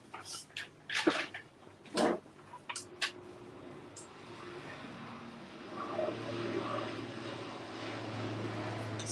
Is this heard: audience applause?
no